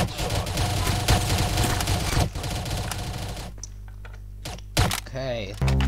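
Rapid gunfire bursts from the Roblox shooter Arsenal, dense and continuous for several seconds, then sparser sharp shots near the end, with a voice talking over the game sounds.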